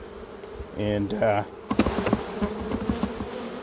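Honey bees buzz around open hives during a basswood honey harvest with a strong nectar flow, a dense close hum with a few louder passes near the ear, as someone briefly speaks over it.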